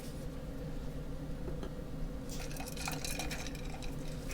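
Peach daiquiri mix poured into a bar measure, a faint steady liquid trickle and drip under room hum, followed by a brief clink of glass or metal near the end.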